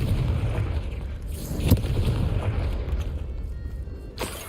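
A Confringo fire spell explodes in Hogwarts Legacy, a deep booming blast over steady low rumble, with a sharp crack near the middle and another burst at the end.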